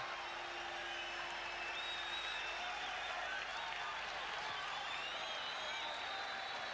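Boxing arena crowd at a 1984 WBA and WBC middleweight title fight roaring in reaction to a right hook landing on the chin, a loud, steady wash of cheering and applause that fills the whole stretch.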